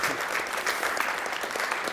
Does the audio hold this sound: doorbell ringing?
no